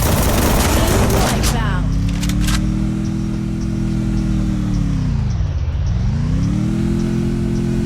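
A car engine from the Free Fire video game drones loudly and steadily, its pitch dipping and then climbing again as the vehicle drives, after a burst of gunfire at the start.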